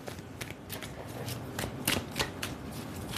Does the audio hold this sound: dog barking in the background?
no